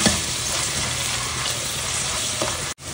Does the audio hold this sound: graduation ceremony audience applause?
no